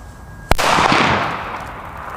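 A Tiger Bomb firecracker bursts outdoors on New Year's Eve with one sharp, loud blast, followed by a long rumbling echo that slowly fades over about two seconds.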